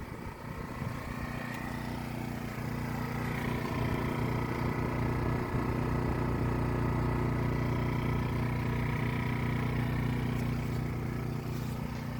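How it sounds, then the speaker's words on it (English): A Harbor Freight Predator 1400-watt inverter generator runs at a steady, even hum, close and constant with no change in pitch throughout. "Really quiet generator,"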